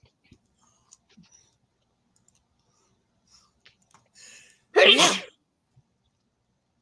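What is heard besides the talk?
sneezing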